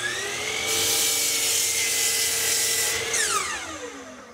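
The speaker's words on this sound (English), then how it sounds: "I'll do that here on the miter saw, then I'll flip the pieces around and cut the other end." A miter saw whines at full speed while its blade bites through wood for a few seconds, then the motor's pitch slides steadily downward as it winds down, loud and close.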